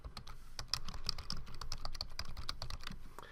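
Quick, irregular keystrokes on a computer keyboard as an email address is entered, a close, soft clatter of clicks running without pause and without any voices.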